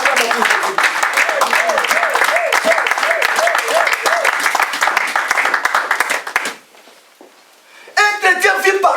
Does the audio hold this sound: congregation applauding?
yes